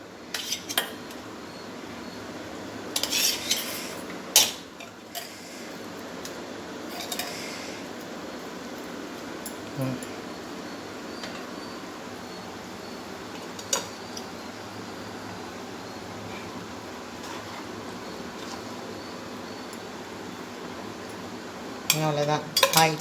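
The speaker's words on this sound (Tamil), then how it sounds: "சூடாக இருக்குது, அதனால் கரண்டியில் எடுத்து போடுறேன் நான்." Steamed lentil balls ladled into hot kuzhambu: soft metallic clinks and scrapes of a ladle against the pot, scattered over a steady low background hiss, close but fairly quiet, with no voice.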